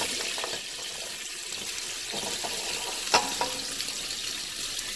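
Skinless turkey sausages and onions frying in a pan, an even broadband sizzle with a few brief scrapes or knocks, close and steady with no one talking.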